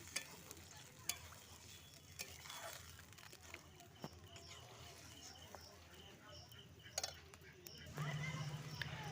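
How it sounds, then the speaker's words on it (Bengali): Quiet sizzling and bubbling of pointed gourd and potato curry gravy simmering in a pan, with occasional soft clicks and pops, close by and low in level. "তো দেখো, এটা ফুটছে।"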